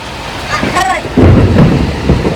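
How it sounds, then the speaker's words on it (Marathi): A thunderstorm with heavy rain: a steady hiss of rain is broken by a loud crack of thunder that rolls into a deep, rumbling boom, close and powerful, with no talking. "इजाच्या कडाडासह पाऊस आलाय आपल्याला"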